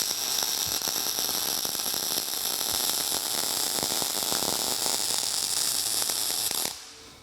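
Welding on a steel gantry crane top beam: a steady, dense crackling hiss holds for nearly seven seconds, then cuts off sharply into near silence.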